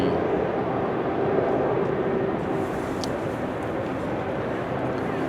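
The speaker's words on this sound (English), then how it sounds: "Next up, Air Canada flight 900 arriving from Montreal, 7879 Dreamliner." A Boeing 787 Dreamliner arriving at a windy Amsterdam airport gives a steady, distant jet roar that fills the whole stretch at an even level, with a continuous low rumble and no talk over it.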